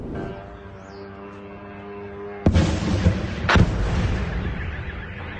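Explosions ring out during an attempt to shoot down a drone over a Russian city: a low hum first, then a sharp blast followed by a second loud boom, with rumbling reverberation afterward at a distance.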